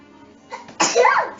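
A single loud, sharp sneeze close by, with a short breathy intake before it, during a tabletop role-playing game session.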